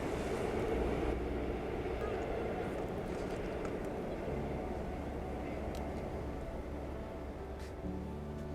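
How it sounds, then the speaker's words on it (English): A train rumbles past an old industrial quay at St Ives, a steady broad roar held at moderate distance for several seconds while a person talks over it. "And there goes the train."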